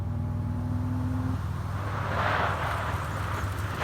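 A Toyota 4Runner fitted with Tundra brakes slows hard. A steady low engine rumble carries a broad swell of road and tire noise midway through, and the sound stays close and fairly constant throughout.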